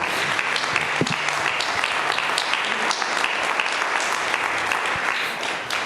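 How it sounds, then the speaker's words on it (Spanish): A church congregation gives a loud burst of applause to God during a sermon, many hands clapping in a thick, continuous roar with a few sharper claps standing out. "¿Cuándo dan un aplauso a Dios?"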